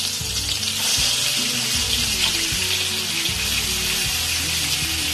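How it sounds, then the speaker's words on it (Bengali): Koi fish, added one by one into hot mustard oil in a kadai, fry with a steady close sizzle and crackle that holds loud and even, with low thumps and clatter of the pan underneath. "কড়ার মধ্যে সর্ষের তেলটা গরম হয়ে গেছে। মাছগুলো এবার একটা একটা করে দিয়ে দেব।"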